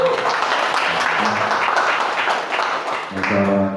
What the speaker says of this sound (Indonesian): Tepuk tangan buat teman-teman dari